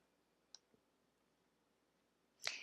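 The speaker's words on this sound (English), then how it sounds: "just click the little blue edit button" A computer mouse clicks on an edit button, a few sharp, quiet clicks close by in a hushed room, the last one slightly louder.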